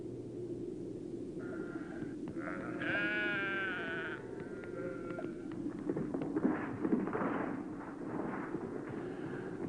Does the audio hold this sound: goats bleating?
yes